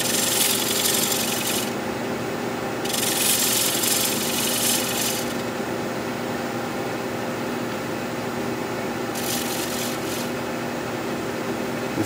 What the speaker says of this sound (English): And I've decided to go with a 3/8 inch spindle gouge.